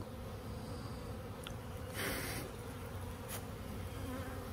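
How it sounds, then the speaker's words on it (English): Honeybees buzz steadily as they fly out of a hive, a dense close swarm drone with a few individual bees passing nearer and louder. "I like to let all the other bees fly out because they can get out."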